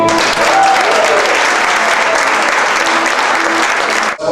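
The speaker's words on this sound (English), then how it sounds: "Another round of applause for Leslie" An audience at a storytelling theatre night gives a sustained round of loud, dense clapping for storyteller Leslie, with faint voices mixed in before it stops abruptly.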